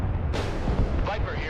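Heavy air strike explosions in the video game Broken Arrow, a loud booming blast that rolls on with a second burst, dense and rumbling, mixed with game audio.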